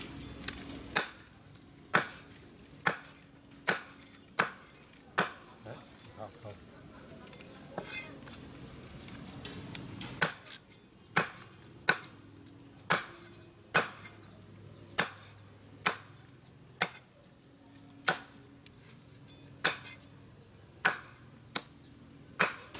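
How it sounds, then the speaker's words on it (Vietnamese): A cleaver chops Muscovy duck meat on a board in a home kitchen: sharp, loud, regular thwacks about once a second, set against a quiet background with faint low hum. "Thế này về là về băm thịt vịt này."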